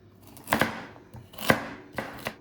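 Knife chopping onions and carrots roughly on a board, three distinct bursts of close, crisp cuts with short pauses between, no voices.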